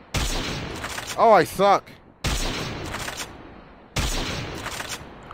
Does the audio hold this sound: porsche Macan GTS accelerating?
no